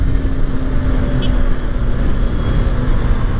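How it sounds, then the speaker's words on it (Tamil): A Hero Xtreme 125R motorcycle cruising on a highway at over 100 km/h: loud, steady engine drone buried in heavy wind roar, constant and unbroken. "நம்ம 100+ இப்போ ரைட் பண்ணிகிட்ருக்கோம், வண்டி வந்து ஸ்டேபிளாக ரைட் ஆகுது இந்த ஹைவேஸில்."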